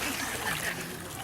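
Water splashes and sloshes continuously and close by as a child learns to swim in a pool, with an adult's voice nearby.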